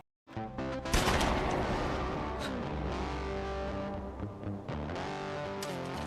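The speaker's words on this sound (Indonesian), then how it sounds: "ternyata Lai menembak ayahnya sendiri dari belakang" A gunshot in a Jason Statham action film, The Transporter: a sharp, loud blast about one second in, followed by a sustained, distorted rumble of soundtrack and effects.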